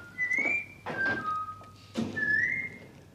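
A pet bird, likely a parrot, whistles in several bright, rising and sliding tones with short pauses between phrases, close and fairly clear, with a few soft knocks and room noise underneath.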